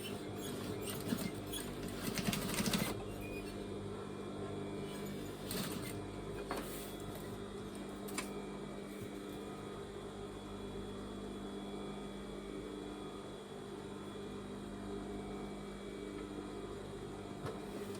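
A sewing machine runs steadily, stitching tape onto fabric for a cushion cover made from an old garment. The motor hums as a continuous mechanical drone through the whole clip, with a few brief clicks near the start.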